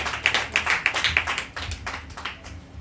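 A church congregation clapping together to acclaim Jesus, a run of sharp rhythmic hand claps up close that thins into looser, scattered clapping amid room noise.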